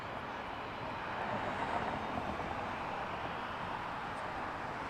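A WestJet Boeing 737-800 flies past at night at Toronto Pearson Airport, a steady broadband jet roar held at an even level throughout.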